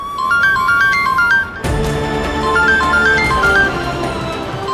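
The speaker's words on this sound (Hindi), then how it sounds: "ईशान, ईशान, ईशान फोन उठाओ" A melodic phone ringtone plays loudly, its repeating chime pattern looping twice with a brief dip between phrases.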